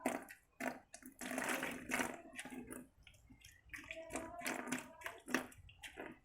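Dirty aquarium internal power filter sponge squeezed and sloshed by hand in a mug of rainwater, giving close, irregular bursts of splashing and dripping water with short pauses between squeezes.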